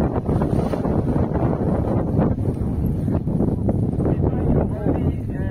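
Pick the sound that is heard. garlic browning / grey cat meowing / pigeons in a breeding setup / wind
wind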